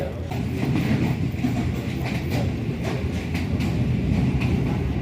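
A train rolls over the Murree Road railway bridge in Rawalpindi in the rain, a loud continuous rumble with clattering wheel beats, heard close from on board.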